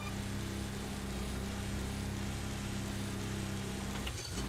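A vehicle engine in a modded survival game runs steadily at a constant, droning idle, loud and even throughout with no voices.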